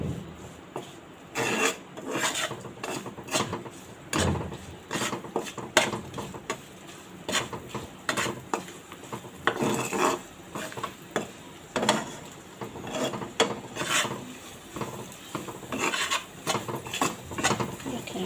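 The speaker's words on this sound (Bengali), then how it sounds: "এভাবে আদা ভাজা করে নেড়ে নেবেন" Ginger frying in a pan on low heat while being stirred, with repeated scraping and rubbing strokes of a utensil over a soft sizzle, close and uneven in rhythm.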